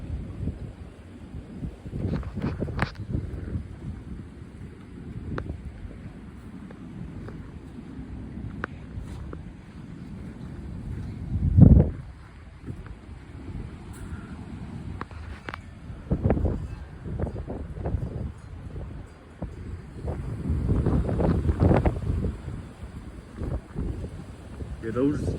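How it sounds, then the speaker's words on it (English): Gusty, strong wind on a freezing winter day in the 20s, roaring and buffeting the microphone in uneven surges with a sharp loud gust midway, trees thrashing outdoors, no talking. "It's really windy and it's freezing."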